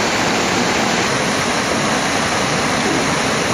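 Ice-cold snowmelt water rushes through the rocky Enipeas Gorge on Mount Olympus, a steady, dense roar of flowing stream that holds constant and close throughout, with no voices.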